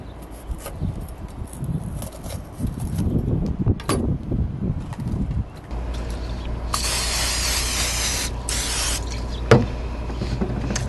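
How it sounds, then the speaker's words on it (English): Bursts of hissing olive oil cooking spray, two long presses close by onto chicken for grilling, with a clatter and mechanical noise before them and no talking. "a little bit of olive oil spray to help my seasoning stick"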